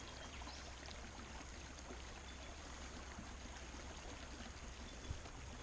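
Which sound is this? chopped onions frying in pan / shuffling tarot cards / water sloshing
water sloshing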